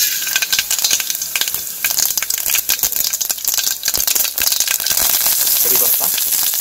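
Mustard seeds crackle and sizzle in hot oil in a pan while sambhar is being made. The frying is close and busy, with sharp popping bursts over a constant hiss, and a voice speaks briefly over it.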